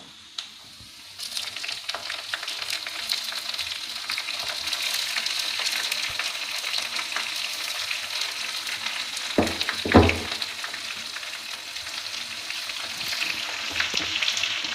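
Herbal ingredients dropped into oil and frying for homemade hair oil, a low sizzle that swells to a steady crackle with a couple of sharp stirring knocks near the middle.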